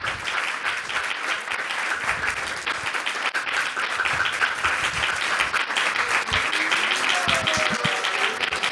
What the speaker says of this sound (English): Oh, you're clapping again.